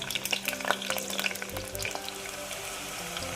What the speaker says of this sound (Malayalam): വെളുത്തുള്ളി അത്യാവശ്യം ചെറുതായിട്ടൊന്ന് കളർ മാറി വരുന്ന പോലെ ഒന്ന് വഴറ്റിയെടുക്കണം.